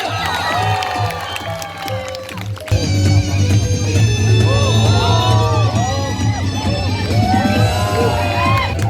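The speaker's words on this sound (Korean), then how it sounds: "여러분들의 박수와 함성 쏩니다" An audience at a folk village horseback archery show breaks into loud applause, cheers and whoops after an announcer's call, the crowd swelling sharply and staying loud, with excited voices and children shouting throughout.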